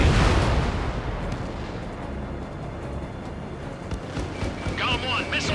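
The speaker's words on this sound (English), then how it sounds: "Bomber hit by a missile." A missile strikes a bomber in a flight combat video game, a loud, dense rumbling blast opening the clip and then rolling on as a sustained heavy roar, with brief electronic beeps near the end.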